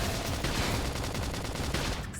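Sustained gunfire rattles continuously in the sci-fi action video game Xenoblade Chronicles X, a dense, loud fusillade of rapid shots with no pauses.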